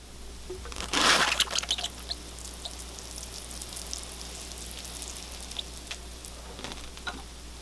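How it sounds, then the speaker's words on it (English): Water poured from a watering can splashes briefly onto a dragon tree bonsai's soil, then the soil gives off a faint, continuous fizzing crackle as it soaks the water up. "I can hear the soil sucking up the water."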